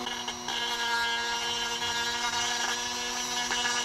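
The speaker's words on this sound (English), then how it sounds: "first we're going to sandpaper it here." A 1 oz silver coin being cut into a cross is sanded on 40 grit sandpaper, giving a steady, loud, close abrasive grinding whir with a hum running through it and no pauses.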